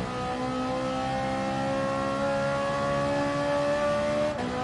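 A Lamborghini engine in Gran Turismo Sport on PS4 holds a steady, sustained drone at constant revs, loud and close throughout, with a brief dip in pitch near the end and no voices.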